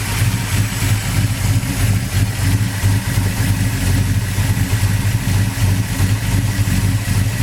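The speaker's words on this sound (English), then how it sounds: "It's powered by a big block 454." A 1966 Chevy Chevelle with a big block 454 V8 runs close and loud, a steady, lumpy idle with a deep, rhythmic burble and no voices over it.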